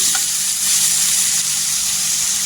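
Dry spices sizzle in hot oil with cauliflower in a pan, a steady bright frying crackle and hiss, close and continuous, with no talking.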